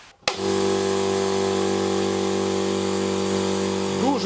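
A VITALS oil-free air compressor starts with a sudden jump into a loud, steady motor drone, holding an even mechanical hum with a strong tonal whine throughout, close by and alone.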